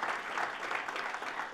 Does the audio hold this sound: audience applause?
yes